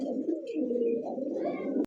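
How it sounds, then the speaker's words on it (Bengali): A Pakistani high flyer pigeon coos close by, a soft throaty rolling call lasting about two seconds before cutting off. "দর্শক এই মুহূর্তে দেখতে পাচ্ছেন খুব সুন্দর একটা কবুতরের চোখ দেখছেন, পাকিস্তানি একটা কবুতর।"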